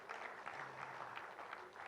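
Audience clapping at a South Africa–Uganda investment summit, a steady wash of applause from a crowd filling the hall, moderately loud and continuous for its whole length.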